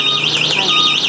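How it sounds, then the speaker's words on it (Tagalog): An electric bike's alarm wails loudly and close by, a high warbling tone rising and falling in quick repeated sweeps without a break. "Malakas yung alarm nun, ah."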